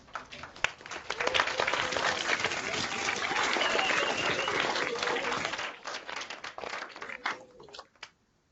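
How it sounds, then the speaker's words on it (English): Applause from unmuted participants on a video conference call, thin and compressed, swelling into a steady patter of many hands that thins out and stops near the end. "give him a warm round of applause to Pro Football Hall of Famer Mr."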